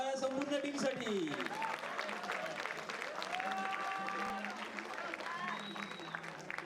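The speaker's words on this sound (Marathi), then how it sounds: "जोरदार टाळ्या संपूर्ण टीमसाठी." Loud applause for a whole team at a college annual day event, a dense steady clapping from an audience that carries on throughout.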